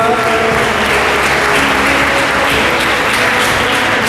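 Loud, sustained applause from an audience at a school toppers' award ceremony, a dense wash of clapping with no talk, continuous throughout.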